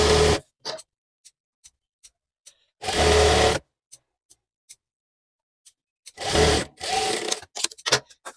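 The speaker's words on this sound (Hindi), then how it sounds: "यहाँ पे ऐसे रखेंगे और सिलाई लगाएंगे इसी सिलाई के ऊपर।" A sewing machine stitching fabric for a bag made from leftover cloth, running in three short bursts separated by quiet gaps with light ticks and clicks between runs.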